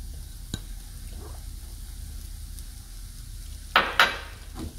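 Beef stick filling is stirred with chopped coriander in a pan over a soft, steady background sizzle, with two sharper scraping clinks of a spoon against the pan near the end.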